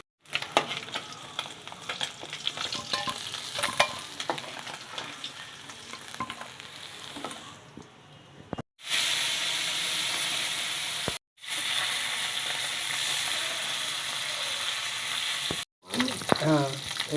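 Koi fish crackle and spit as they finish frying in oil, a steady close sizzle broken by a few abrupt cuts. Brief clinks of a utensil against the pan come near the end.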